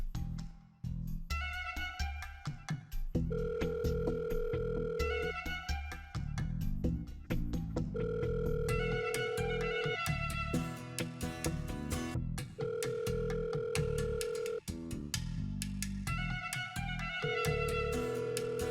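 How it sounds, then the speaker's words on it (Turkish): A telephone rings repeatedly while someone waits for an answer, with evenly spaced electronic ring bursts separated by short pauses, clear and close over the whole stretch. "Hadi aç şu telefonunu."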